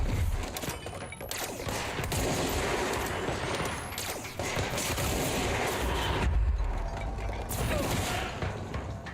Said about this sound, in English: Hear more gunshots.